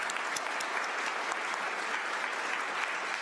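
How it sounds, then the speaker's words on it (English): Audience applause at a city merit awards ceremony, a steady dense wash of clapping from a crowd that holds evenly for a few seconds, fairly faint and distant. "Let's give them a round of applause."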